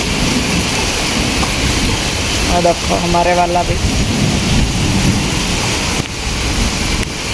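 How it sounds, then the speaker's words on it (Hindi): Heavy monsoon-style rain pouring steadily, a loud dense wash of noise throughout, with someone speaking briefly over it. "पूरी बारिश हो रही है, बहुत तेज वाली।"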